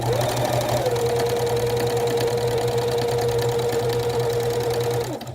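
A sewing machine stitches quilt pieces in a fast, steady whirring run of about five seconds, close and loud, before stopping abruptly.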